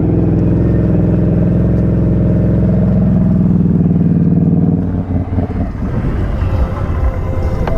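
A Can-Am Renegade ATV engine revs loud and close as the rider pops a wheelie near a lake, steady rough drone giving way to choppier, clattering throttle bursts.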